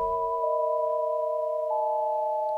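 Harmonic Explorer plays a pure sine-wave tone with vibrato switched off. The pitch holds steady and flat without wavering, sounding alone at a moderate level throughout.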